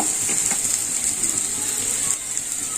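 Spice paste with salt, turmeric and a little sauce fries in a pan for a pointed gourd dorma, giving a steady, close sizzling hiss throughout with no talk.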